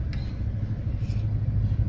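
Road traffic rumbles nearby, a continuous low engine drone from passing cars with faint higher whooshes, steady and moderately loud for a couple of seconds.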